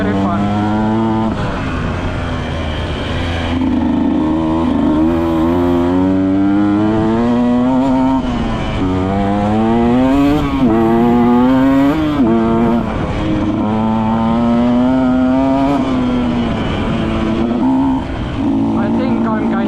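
A Husqvarna TE 125 dirt bike engine runs continuously and loudly up close, rising and falling in pitch as the throttle varies, with a voice speaking over it.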